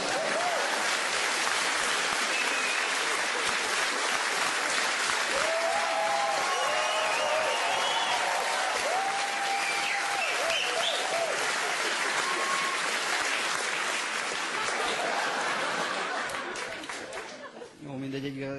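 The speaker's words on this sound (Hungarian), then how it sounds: "Taps." Sustained audience applause at a Hungarian stand-up comedy show, dense and steady for most of the stretch, with a few chuckles and murmurs mixed in before it tapers off near the end.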